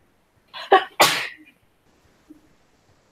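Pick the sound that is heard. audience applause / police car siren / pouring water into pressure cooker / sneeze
sneeze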